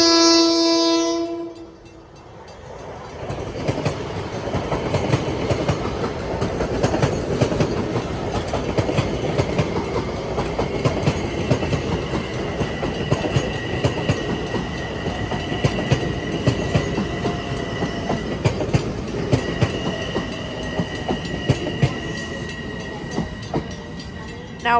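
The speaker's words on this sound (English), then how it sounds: "Now approaching is an M9 test train from Hillside to Ronkonkoma." An M9 test train from Hillside to Ronkonkoma sounds a loud horn blast as it approaches Bethpage station at night, then passes with a long rumbling roar and rhythmic wheel clatter, while high squeals and tones ring over the noise.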